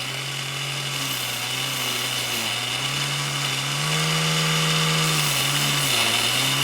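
An old restored brace hand drill being cranked, giving a continuous whirring, grinding mechanical drone whose pitch rises and falls slightly as the speed changes, close and steady with no talking.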